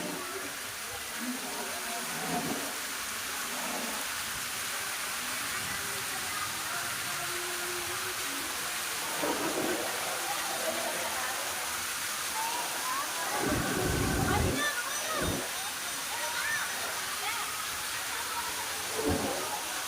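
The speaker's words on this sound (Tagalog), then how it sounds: "Ayan, paikot-ikot talaga yan siya kasama ng tubig. Ibubuhos ka ng tubig dyan." Water pours and rushes down a long, winding water slide at a water park, a steady broad hiss of flowing water with a few louder surges, while people talk intermittently over it.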